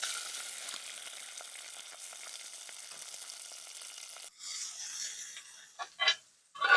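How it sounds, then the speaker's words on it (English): Moose steak fries in garlic and fresh herb butter, giving a steady bubbling sizzle. The sizzle drops away near the end, followed by a few louder clanks and scrapes of the pan. "we're going to use that flavored butter to base that moose steak"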